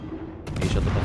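Naval gunfire from a Polish destroyer in World of Warships, a sudden muffled salvo boom that bursts in partway through and rumbles on, fairly loud.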